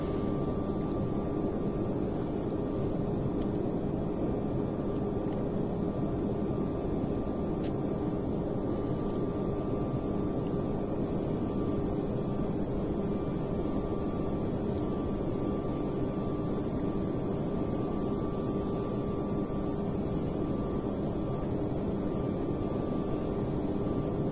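Steady, loud roar of airliner jet engines held at full takeoff thrust in the FSX flight simulator, a Thomas Cook Airlines flight departing Gatwick, continuous broadband noise with a faint whine and no variation in level.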